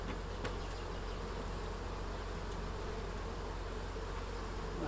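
Honey bees buzzing around an open beehive during a honey harvest, a dense continuous drone holding steady throughout, close and fairly quiet with no voices.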